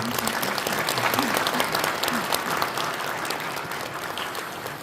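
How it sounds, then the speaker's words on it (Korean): A large audience at a national men's evangelism training and prayer gathering at a Pyeongchang resort applauds a retiring pastor, a dense, continuous wash of clapping at steady volume from start to finish. "저희 큰 박수 한번 부탁드립니다"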